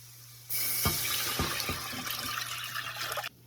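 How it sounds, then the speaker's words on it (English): Water pours steadily into a metal pan, a bright rushing splash with a few hollow clunks, running for about three seconds before stopping. "I'm going to add 4 cups of water."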